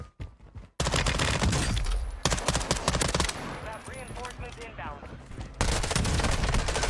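Bursts of rapid automatic gunfire in a shooter video game, loud and close, in several sustained volleys separated by short gaps, with a player speaking over it.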